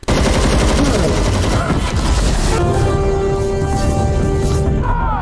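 Dense, sustained automatic gunfire from a Halo TV series battle scene, loud rapid bursts continuing throughout with clanking and whining effects.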